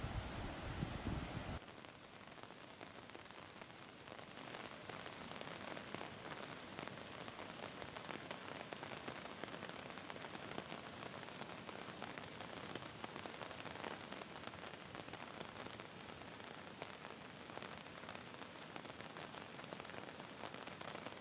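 Steady rain falls continuously on surfaces beside the flooding Yamuna river at Barkot, a dense even patter lasting the whole stretch after a brief louder burst at the start.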